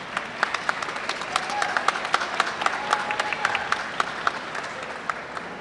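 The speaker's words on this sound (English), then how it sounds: "You deserve a round of applause for being here today" An audience at an honors convocation applauding parents and relatives, a steady wash of many hands clapping with sharper individual claps standing out, continuing for several seconds.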